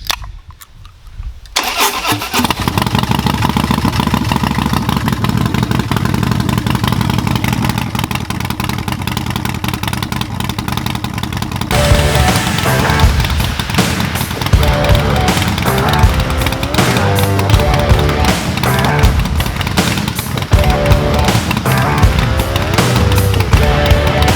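A Harley-Davidson Dyna Wide Glide motorcycle engine cranks and fires, then settles into a steady loud idle while warming up, its rumble roughening and turning more uneven partway through.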